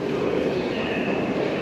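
Subway train rumbling steadily past in New York, a loud continuous roar of wheels and cars with no talk.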